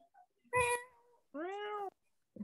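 A person imitates a cat with two drawn-out vocal meows, the first longer and rising, the second steady, close and loud with short silent gaps between.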